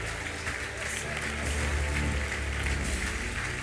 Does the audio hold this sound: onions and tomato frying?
no